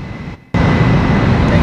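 Jet aircraft in Ace Combat 04, a broad steady engine roar that briefly drops away, then surges back loud and constant.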